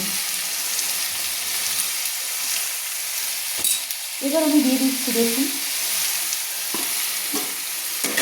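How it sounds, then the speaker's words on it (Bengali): Onion paste fries in hot oil over a medium flame for a tilapia teljhal, a steady sizzle with a burst of stirring scrapes partway through, while someone speaks over it. "পেঁয়াজের পেস্টটাকে আমি তেলের মধ্যে সুন্দর করে কষিয়ে নিচ্ছি"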